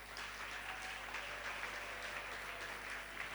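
A church congregation claps together in a continuous, even burst of applause filling the room, with a faint low hum underneath.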